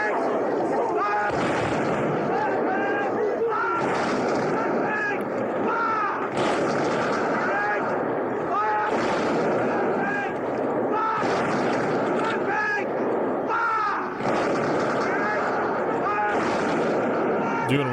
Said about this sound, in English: Fire! Volley fire, ranks! Front rank! Fire!